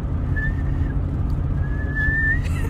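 A person whistles outdoors to call escaped horses, with a thin, sustained whistle sounding twice, briefly and then longer, over a steady rumbling background.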